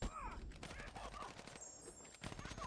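A special attack lands in Marvel Contest of Champions, a rapid burst of crackling impacts and whooshing effects layered over game sounds, dense and punchy for the whole moment.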